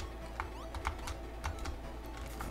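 Computer keyboard keys tapped in quick irregular bursts while playing Alex Kidd in Shinobi World, timing wall jumps; the clicks sound close and fairly crisp over a low steady hum, with no talking.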